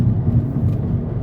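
An empty cattle truck passing on a road near High Rock Lake, North Carolina: a brief, loud low rumble of the engine and tires, close by, with no voices.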